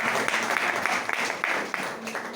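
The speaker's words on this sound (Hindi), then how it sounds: "इनके लिए जोरदार ताली हो जाएगा।" A crowd at an Indian company business-plan meeting gives loud, sustained applause, dense overlapping hand claps filling the whole moment close to the listener.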